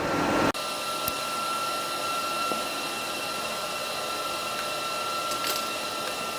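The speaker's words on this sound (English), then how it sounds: "I know you guys can hear that old welder is singing over there with the fan running" An old welder with its cooling fan running in a workshop gives a steady, close droning hum with a faint whine, unbroken after a brief start and with no talking.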